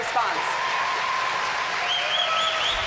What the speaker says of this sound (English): Oh, a lot of applause from that